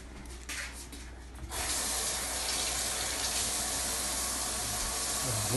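Food being rinsed under a running kitchen tap: after a second and a half of low noise, water starts flowing and keeps up a steady, close, broadband splashing hiss to the end.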